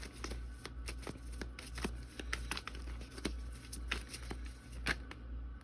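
Tarot cards shuffled by hand, a soft rapid riffling and flicking of card stock in quick irregular bursts, close and quiet over a low steady hum, without speech.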